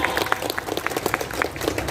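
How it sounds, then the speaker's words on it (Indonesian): Audience applause at a Betawi community Ramadan gathering in Indonesia, a steady wash of many hands clapping close by for about two seconds with faint crowd murmur beneath. "Tepuk tangan."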